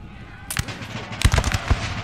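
Musket volleys in Napoleonic Total War 3 crack out as a ragged series of sharp reports, several shots bunched together in quick succession after a single opening blast, over a low battlefield din.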